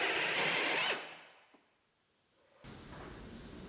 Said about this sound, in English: Go back over all of our spot welds with our 5/16 drill.